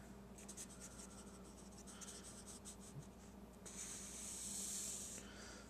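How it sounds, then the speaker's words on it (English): A pen draws a diagram on a writing surface, faint close scratching strokes in short bursts, then a longer continuous stroke near the end, with no talking. "So I'm drawing."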